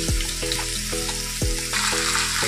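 Potatoes fry in hot oil for a Bengali vegetarian dish, a close, steady bright sizzle that runs throughout alongside low tonal background music, with no talking.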